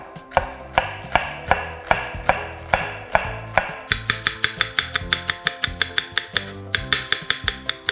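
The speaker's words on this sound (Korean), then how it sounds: "그래서 송송송 썰어 주겠습니다." A knife slices a large green onion into thin rounds on a cutting board, crisp evenly spaced strikes at first that quicken into a rapid steady chopping rhythm, close and clear with no talk.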